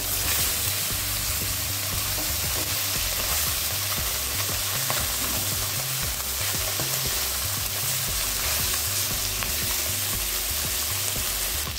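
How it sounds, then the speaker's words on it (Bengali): Singi catfish pieces frying in hot oil in a kadai right after being flipped, a loud, steady sizzle and crackle that continues without a break and with no voices. "মাছগুলোকে উল্টে দিচ্ছি।"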